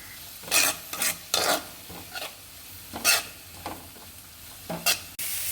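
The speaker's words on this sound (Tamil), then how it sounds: "இப்போ எல்லா வெஜிடபிள்ஸையும் சேர்த்து நம்ம மிக்ஸ் பண்ணி வச்சுப்போம்." A spatula scrapes and tosses carrot, capsicum and cabbage in a frying pan in a series of quick, close stirring strokes with faint sizzling in the quiet gaps.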